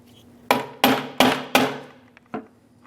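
Four sharp hammer blows drive a valve cover gasket into the valve cover of a 2008-2020 Dodge Grand Caravan 3.6L, evenly spaced and close, then two lighter taps after a pause.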